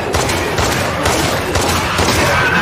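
Pistol gunfire in The Last of Us Part II during the Abby boss fight, a steady barrage of close, loud shots and booms layered with game noise.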